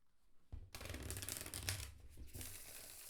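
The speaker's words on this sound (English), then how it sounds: "Shuffles again beautifully, always, as all their decks do." A tarot card deck being shuffled close up, one quiet riffle of cards flicking together for a few seconds after a brief pause, with no voices.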